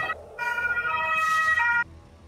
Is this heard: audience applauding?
no